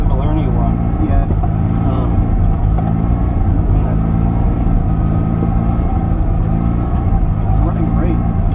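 A Porsche 930 Turbo engine drones steadily at speed around Lightning circuit, a loud, continuous, close in-car hum with a sustained tone and slight shifts, and voices heard at times over it.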